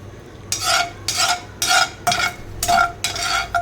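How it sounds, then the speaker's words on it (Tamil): Mustard seeds, urad dal, cumin and curry leaves tempered in a kadai, with five evenly spaced bursts of stirring and crackling over a low steady background, no talk. "இன்னொரு கடாயை எடுத்து அதில் கொஞ்சம் கடுகு, கொஞ்சம் உளுந்து, கொஞ்சமாக ஜீரகம், அதுக்கப்புறம் கொஞ்சமாக கருவேப்பிலை போட்டு தாளிச்சிக்கலாம்."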